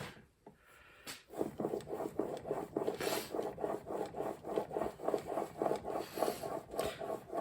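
A chisel being honed on an 8000-grit sharpening stone, with steady rhythmic rubbing strokes back and forth, close and moderately quiet, repeating evenly after a brief pause at the start.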